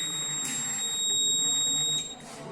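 A school science-model fire sensor sounds its buzzer alarm: a loud, continuous high electronic tone over a busy, noisy room, dropping away shortly before the end.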